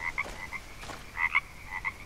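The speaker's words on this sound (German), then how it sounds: "Das sind doch diese giftigen Frösche" Poison frogs croaking in the jungle of the survival game Green Hell: a scattered series of short, bright croaks in irregular bursts, close and fairly loud over a soft ambient bed, with no talking.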